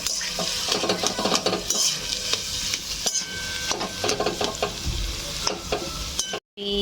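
Spiced potato mixture with salt being stirred in a hot pan for dabeli filling: continuous sizzling with frequent scraping and clinking of a spoon against the pan, close and loud, ending with a brief silent gap.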